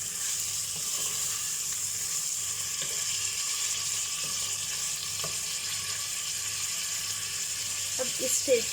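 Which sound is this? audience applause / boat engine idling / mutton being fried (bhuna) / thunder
mutton being fried (bhuna)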